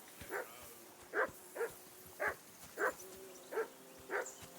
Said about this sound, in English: we're back to the dog barking like crazy